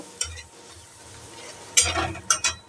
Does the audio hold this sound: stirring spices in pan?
yes